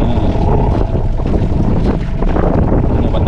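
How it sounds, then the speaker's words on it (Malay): A small 5-horsepower outboard engine on a fishing boat runs steadily in heavy rain, its loud continuous drone mixed with strong wind buffeting and water noise. "Enjin 5 kuda ya."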